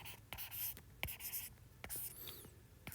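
Marker or chalk strokes on a board during a Hindi-language exam-prep lesson, a series of short scratchy scribbles and taps spread irregularly over a few seconds, close and fairly quiet, with no talking.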